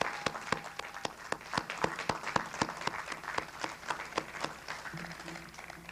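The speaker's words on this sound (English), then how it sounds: "please join me in a round of applause to thank the faculty at South Puget Sound" Applause at a 1999 South Puget Sound college graduation ceremony thanks the faculty, heard as a few distinct, evenly spaced sharp claps standing out over a thin background of softer clapping.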